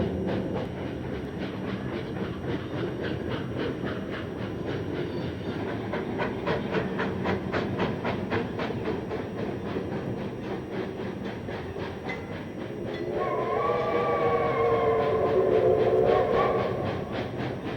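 Santa Fe steam locomotive 3759 pulls away from Pasadena station up a 2% grade in 1955, its steady rapid chuffing rhythm loud and continuous, joined near the end by a sustained multi-tone whistle.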